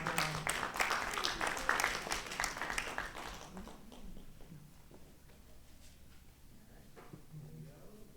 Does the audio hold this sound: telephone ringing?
no